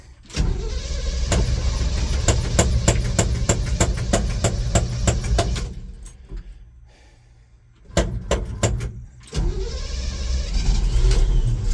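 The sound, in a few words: car engine cranking and starting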